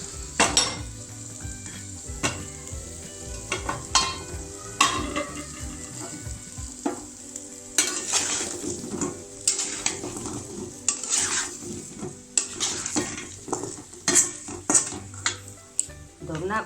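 Potatoes frying in plenty of oil in a pan, with repeated stirring scrapes and metallic clatters of a utensil over a steady hiss and sizzle, close and fairly loud throughout.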